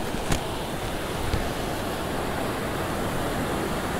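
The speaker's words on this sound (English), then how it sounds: "Could fall asleep with the sound of the waves." Surf rolling onto a beach during Tropical Storm Alex, a continuous loud roar of breaking waves mixed with gusting wind buffeting the microphone, with a couple of brief clicks and no voices.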